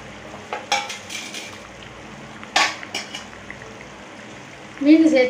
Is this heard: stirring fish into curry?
yes